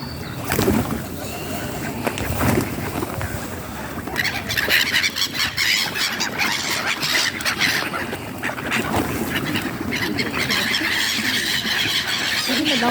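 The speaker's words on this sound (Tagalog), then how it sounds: "papakain ng mga ibon at bibi" Ducks and other birds being fed in a park give off squeals and quacking calls, steady and fairly close, with faint human voices in the background.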